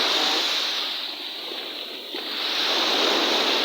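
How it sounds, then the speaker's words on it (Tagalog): Strong ocean waves break and wash steadily at the beach at Sunset Bay in San Fernando, La Union, a loud close surf roar that eases briefly before swelling back. "Ang lakas masyado ng alon."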